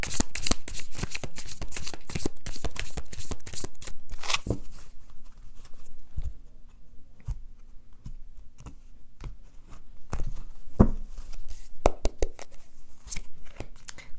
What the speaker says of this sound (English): Let's do a Celtic cross spread for love for those of you who are open to it.